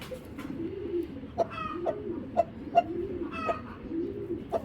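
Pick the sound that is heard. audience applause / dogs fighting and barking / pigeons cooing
pigeons cooing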